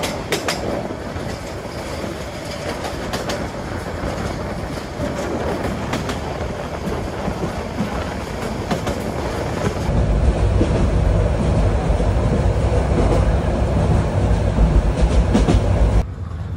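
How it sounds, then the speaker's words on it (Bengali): Parjotak Express passenger train crossing the Kalurghat rail-road bridge in Chittagong, on the Cox's Bazar to Dhaka route: a loud, steady rumble with rhythmic clickety-clack of wheels, growing heavier and more booming partway through as the cars roll over the bridge. "এই মুহূর্তে আমাদের পর্যটক এক্সপ্রেস ক্রস করছে চট্টগ্রামের কালুরঘাট সেতু"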